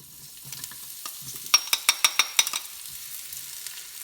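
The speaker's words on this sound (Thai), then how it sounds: "ตอนนี้กระทะเริ่มร้อนแล้ว มันง่ายแล้ว เอาหอมกระเทียมบึ้มลงไปเลยนะคะ" Shallots and garlic go into a hot wok, followed by a quick burst of sharp metallic scrapes and clicks from stirring over a low background hiss.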